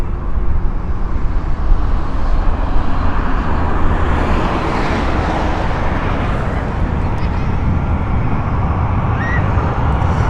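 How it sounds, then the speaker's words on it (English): A 21-year-old British Airways Airbus A319 on the Newcastle shuttle flies inbound to Heathrow, producing a broad, steady jet roar that swells slightly midway and stays loud and continuous without talk. "Newcastle flight inbound now. This is the shuttle service from British Airways, Airbus A319."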